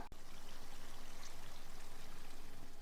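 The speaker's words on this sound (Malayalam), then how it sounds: "ഒരു one by fourth cup vinegar എടുത്തിട്ടുണ്ട് അതും കൂടെ ഇതിലേക്ക് ആഡ് ചെയ്ത് കൊടുക്കാം" Vinegar pouring into a grape and date pickle, a steady continuous stream of liquid running for several seconds, close and even, with no talking.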